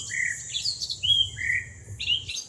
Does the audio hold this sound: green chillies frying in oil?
no